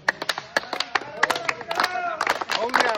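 Crowd clapping at a devotional gathering, sharp individual hand claps building into a ragged rhythm, mixed with voices and cheering nearby.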